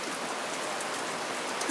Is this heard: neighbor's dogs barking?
no